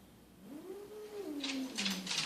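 A cat being bullied by dogs lets out a long, low drawn-out yowl that rises and then slowly falls, a moaning caterwaul heard alone in a quiet room, with faint rustling noises toward the end.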